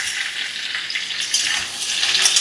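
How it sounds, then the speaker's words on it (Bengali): Vegetables drop into hot oil tempered with dried chilli and panch phoron, giving a loud, dense hiss and sizzle that swells slightly as stirring continues, with no voices. "শুকনো লঙ্কা পাঁচফোড়ন ফোড়নে দিয়ে এবারে সবজিগুলো দিয়ে দিচ্ছি।"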